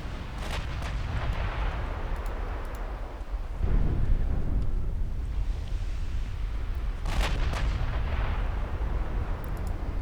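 Naval gunfire and ship explosions roll through a battle in the warship game Ultimate Admiral Dreadnoughts, dense low booms over a constant rumble, with sharper distant cracks every few seconds.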